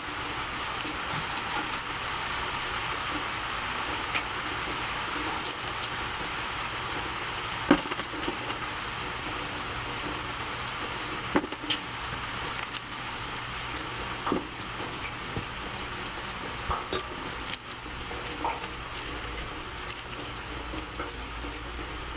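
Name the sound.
heavy rain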